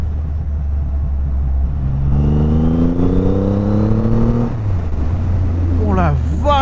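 A Triumph Rocket 3 motorcycle on a test ride accelerates hard, its deep rumble climbing steadily in pitch over constant wind noise before dropping at a gear change, with a brief excited voice near the end.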